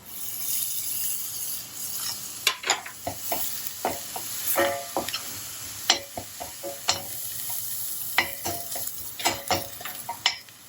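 Onions fry with garlic in a pan for creamy prawn pasta, a steady sizzle broken by irregular clicks and scrapes of a utensil stirring against the pan, close and moderately loud.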